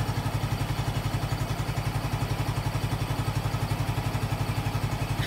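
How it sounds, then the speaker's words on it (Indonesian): A motorcycle engine idles close by with a fast, even, pulsing putter that stays steady throughout, with no voices. "Katakan motor masih menyala."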